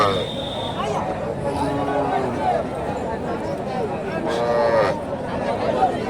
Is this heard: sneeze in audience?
no